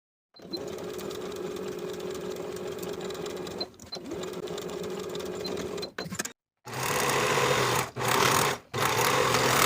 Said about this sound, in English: Sew the curved edge of the pockets together and finish the raw edges.